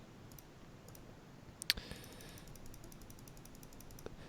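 Graphing calculator keys pressed, a handful of small faint clicks with one sharper tap partway through, quiet and close with no talking.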